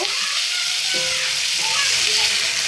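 Ginger, green chilli paste and fish curry being stirred and fried in a pan, a loud continuous sizzle with a few faint utensil scrapes underneath.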